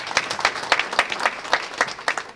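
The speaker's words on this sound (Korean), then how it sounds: "박수하겠습니다" Members of a presbytery at its autumn regular meeting clap together in a pulsing, fairly regular rhythm, moderately loud and close, with no talk.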